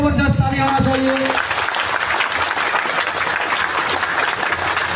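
Audience at an event in Latehar, Jharkhand bursts into loud, sustained clapping that fills the room, a dense crackle of many hands continuing evenly after a voice speaking over the opening moment.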